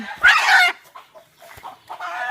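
A chicken caught with a rope squawks and clucks loudly up close, a harsh burst followed by several shorter, softer clucks.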